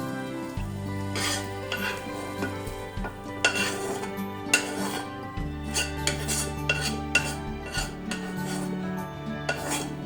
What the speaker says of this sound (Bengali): ডিমগুলো ঝুরা ঝুরা করে ভেজে নেওয়া যায়